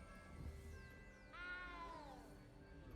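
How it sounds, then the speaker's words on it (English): A single drawn-out, distressed cat meow from the video game Hogwarts Legacy rises and falls over a quiet background hum, sounding close and clear. "That cat sounds distressed."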